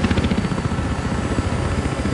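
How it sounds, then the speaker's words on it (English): Transport helicopter in the video game Battlefield Hardline, a loud, close, steady rotor thump with an engine drone underneath, continuous throughout. "That's a transport chopper!"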